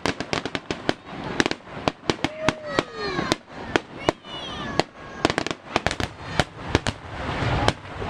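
Fireworks burst at a Fourth of July finale at Bethpage Ballpark, a dense run of loud sharp bangs and crackles with whistling rising shells between, while crowd voices murmur underneath.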